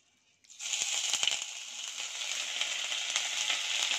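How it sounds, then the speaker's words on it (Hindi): Ginger garlic paste hits a hot pan for a chilly egg curry and sizzles loudly and steadily. Crackling starts with a sudden burst and holds on, close up, with no voices. "इसके लिए पहले मैं ये अदरक लहसुन की पेस्ट रखा था वो मैं डाल रही हूँ।"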